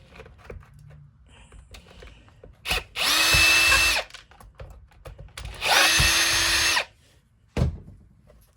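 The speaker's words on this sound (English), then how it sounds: "So we're gonna remove two screws that are right there." A power driver removes screws from a Bissell PowerTrack vacuum, giving two loud, steady whirring bursts of about a second each, with faint clicks and handling noises before and after.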